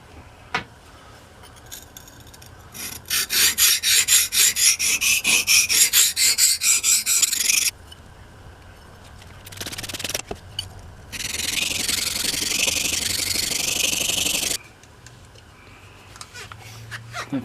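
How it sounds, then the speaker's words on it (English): An axe edge worked on a 400 grit sharpening stone: a run of fast, rhythmic gritty rasping strokes, then after a short pause a longer stretch of steady scraping, close and fairly loud. "this axe is pretty sharp already, but I think we can refine the edge a little bit"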